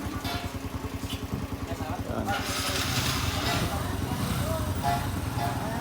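Motorcycle engines idle and rev steadily at a motorcycle repair shop, a continuous close mechanical rumble with workshop noise, and people talking over it.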